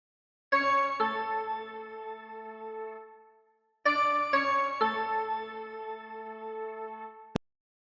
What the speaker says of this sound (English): we're also going to add this bell lead part here.